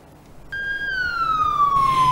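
A fire engine siren at a burning market in Bandung gives one loud, close wail that starts suddenly and slowly drops in pitch.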